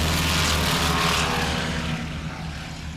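A Douglas DC-3 propeller airplane takes off at a STOL competition in Gallatin, Tennessee, its loud, droning piston engines roaring close at first, then the rumble slowly fades as it pulls away.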